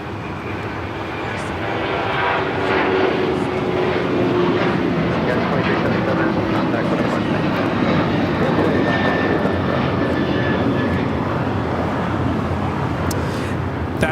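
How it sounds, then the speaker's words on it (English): A United Airlines Boeing 737-900ER jet taking off from Los Angeles airport, a loud sustained engine roar that swells and holds steadily throughout, with broadband rumble; faint talk may sit underneath. "That is United Airlines 2377 taking off to Houston Intercontinental on the 737-900ER"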